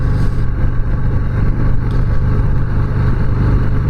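Harley-Davidson Softail Heritage motorcycle, a preowned 2023 model with extra displacement, riding on a street; its engine gives a steady, loud, low rumble with a pulsing beat that runs throughout, with no talking.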